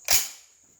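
A single sharp rifle shot fired on a range while testing an Arken Optics EP4 6-24x50 scope, one loud close crack with a short decaying tail and no speech over it.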